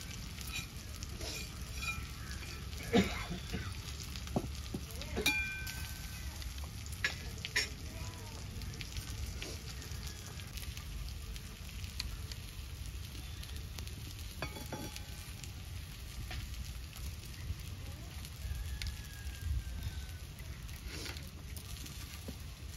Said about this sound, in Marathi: आता फ्राय आपण इकडे स्लो गॅस ह्याच्यावरती टाकूया